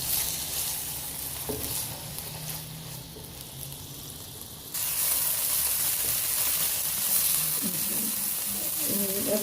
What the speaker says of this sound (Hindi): सबसे पहले हम घी में ये चिकन का गोश्त डाल के इसको थोड़ा सा हमने